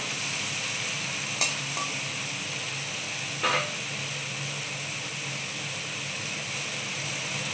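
Chopped chillies frying in a pan, a constant broad sizzle throughout with two brief sharper crackles or clinks early on, no voices over it.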